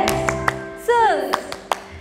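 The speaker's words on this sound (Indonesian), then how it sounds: "Tepuk tangan Tuhan Yesus" A Sunday school congregation in a church claps in a quick, regular rhythm of sharp, close hand claps, while a voice briefly sings or calls out partway through.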